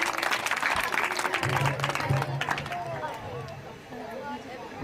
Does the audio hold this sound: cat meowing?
no